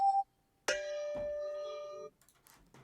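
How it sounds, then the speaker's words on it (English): A sampled light bulb is struck lightly, giving a bright metallic ding that rings with a sustained tone for over a second, preceded by a short pure tone and followed by faint clicks. "So what they did here, they sampled light bulbs."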